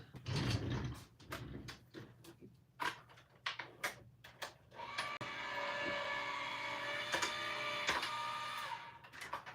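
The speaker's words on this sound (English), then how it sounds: "pop this into my embossing folder like that and run it through my machine" An embossing folder goes through a manual die-cutting machine, giving scattered clicks and clunks followed by a sustained grinding, whirring pass as the folder is cranked through, close up and fairly quiet, with no talking.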